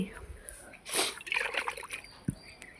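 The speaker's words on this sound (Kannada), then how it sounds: "ಬೇಸ್ಮೆಂಟಿಗೆಲ್ಲ ನೀರು ಹಾಕಿ," Water splashes and trickles onto the basement floor of a house under construction, poured by bucket and mug, with one fuller splash and smaller sloshes after it and faint voices in the background.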